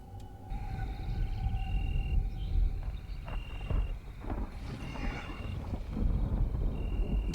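A dinosaur in a Jurassic Park analog horror piece gives a deep, drawn-out groaning call rather than a roar. It is loud, rumbling and sustained, with no voices over it.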